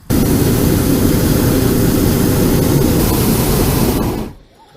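A hot air balloon burner blasts with a loud, steady roar that fills the air for about four seconds, then cuts off abruptly into quiet.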